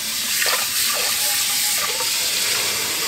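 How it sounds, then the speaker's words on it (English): Cold tap water runs steadily over cooked pasta in a colander at a kitchen sink, a close, continuous splashing gush with no break. "all I'm going to do is stand here with cold water and wash this pasta"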